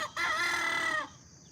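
A rooster crows once, close and loud, in a sustained harsh call of about a second that fades off at the end against a quiet background.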